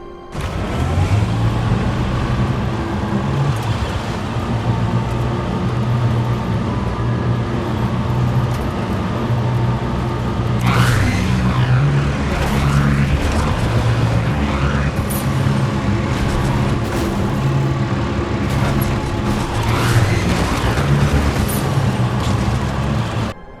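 A futuristic, Star Wars-like car engine in the video game Fortnite hums with a steady, layered tonal drone, rising into sweeping pitch glides around the middle, loud and continuous with no talk.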